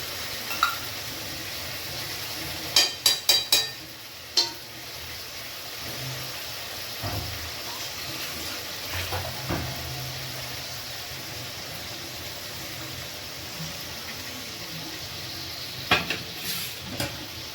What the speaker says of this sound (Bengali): এবার আমি টক দই সব রকম মশলার পেস্টটা দিয়ে দিলাম।